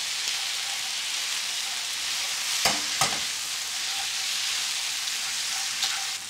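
Beef and rice noodles sizzle steadily in a hot wok with oyster and soy sauces, and a couple of sharp scraping stirs and clinks of the spatula come through close up.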